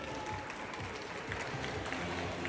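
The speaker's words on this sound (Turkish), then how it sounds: "Şu an Okan Hocam ve Buse Hocam'la birlikte onlara bir alkış almak istiyorum." Applause from a gym group at a MACFit fitness club, steady dense clapping mixed with crowd noise, continuous and fairly distant throughout.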